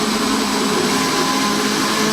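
A Fontys electric go-kart motor drives forward on a hardware-in-the-loop test rig, giving a steady, loud electric whine and hum that holds evenly throughout without speech.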